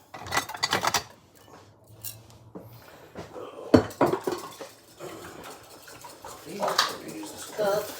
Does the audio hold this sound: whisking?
yes